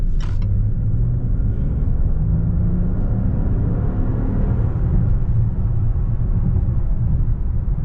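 2021 Range Rover HSE driving in Sport Plus mode, heard from inside as a steady, loud low engine and road rumble that holds evenly throughout, with a brief hiss near the start.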